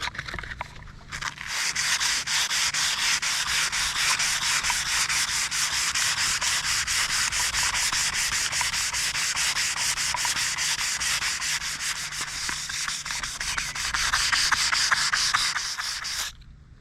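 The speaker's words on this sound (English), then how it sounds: "So we're gonna do a little wet sanding here and see if we can find any gold." Wet sanding by hand over the black paint of a screen-used Knight Industries trailer, searching for original gold trim beneath; a steady, close, continuous abrasive rubbing and scrubbing runs without pause for the whole stretch.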